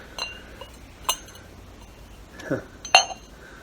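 Cut glass salt cellar, a large table salt with strawberry diamond cutting, clinking in the hand with a few sharp, bright chinks spread over a few seconds, near and moderately loud, with faint voice sounds nearby.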